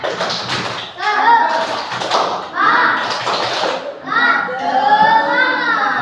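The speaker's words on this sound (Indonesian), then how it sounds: "Tepuk semangat." A group of schoolchildren chants together in a classroom and claps along in the 'tepuk semangat' spirit clap. Their rhythmic hand claps and taps run under the chanting voices for several seconds.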